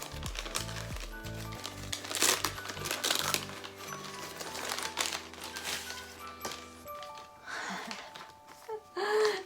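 Gift wrapping paper is unwrapped from an advent calendar present, making intermittent crinkles, rustles and tearing bursts, with a soft voice heard at moments.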